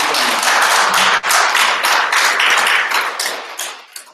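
Close, loud applause erupts at a Paju candidates' policy debate, a dense patter of claps that stays steady for a few seconds before tapering off.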